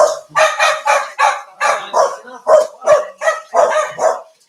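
A dog barks loudly and close by in a steady run of about nine evenly spaced barks.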